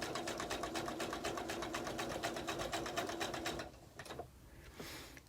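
A sewing machine stitches a table runner in a fast, steady mechanical run for about three and a half seconds, then stops and gives way to a few faint handling clicks.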